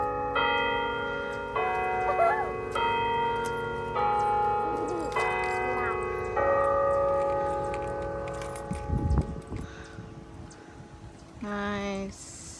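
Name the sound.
bell ringing at Niagara Falls park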